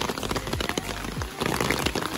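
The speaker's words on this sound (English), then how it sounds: "It's raining quite a lot," Heavy rain falling in a wood, a dense, continuous patter of drops close by with scattered louder hits on a surface, no voices.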